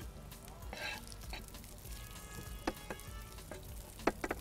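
Small pieces of onion frying in ghee, a soft, steady sizzle heard close up with a few sharp clicks and taps of a utensil near the end, no voices.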